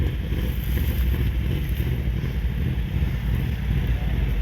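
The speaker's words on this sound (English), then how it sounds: "as a motorcycle gets in on the action as well." A motorcycle rides past at an outdoor car meet, its engine a steady low rumble under constant wind noise, fairly loud and continuous without speech.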